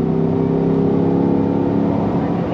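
A Corvette engine pulls hard at full throttle on a race track, a loud, steady rising drone heard close up from inside the car, with no talk.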